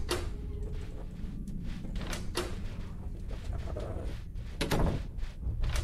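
Doors opening in a video game, heard as sharp thuds and clunks at irregular intervals over a steady background.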